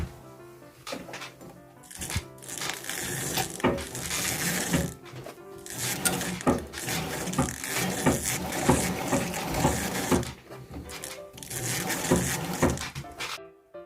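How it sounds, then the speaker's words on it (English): A sewing machine stitches boning tubes along marked lines for a corset top, running in short uneven bursts of rapid clatter separated by brief pauses, close and moderately loud. "first day started with sewing the boning tubes, which means just sew along the marked lines."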